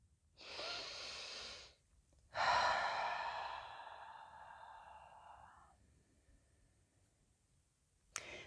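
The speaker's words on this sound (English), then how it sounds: "So let's take another breath." One slow, deep breath taken during a calming breathing exercise: a long inhale, a short pause, then an extended, fading exhale, close and alone, ending with a faint click.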